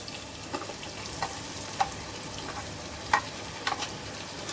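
Ground masala paste hitting a pan of frying potato curry, a steady broadband sizzle with scattered sharp crackles and pops, close and continuous with no talk.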